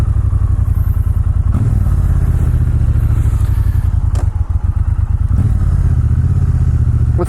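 A Triumph Bonneville T120 Gold Line with dual pea shooter exhausts idles and putters steadily up close in a parking lot, a throbbing twin-cylinder beat with a few small blips and thumps along the way.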